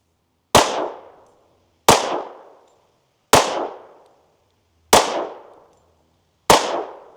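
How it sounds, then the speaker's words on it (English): Five sharp, loud 10mm pistol shots fired one at a time at an even pace over a chronograph, each a crisp crack with a short decaying tail and silence between. "Get 5 shots out of the pistol, 5 shots out of the rifle."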